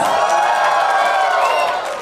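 An audience at a school annual function cheers and shouts after a stage performance, a loud, dense wall of voices and whoops that holds steady before easing slightly at the end.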